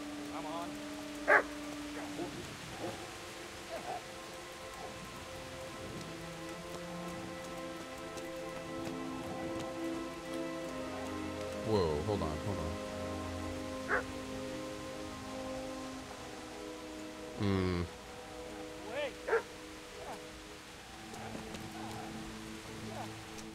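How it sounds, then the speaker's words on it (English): Dog barks in the rain in Kingdom Come: Deliverance, a few sharp yips scattered through steady rainfall with game music and ambience, fairly distant. "The dog sounds like it's coming over here."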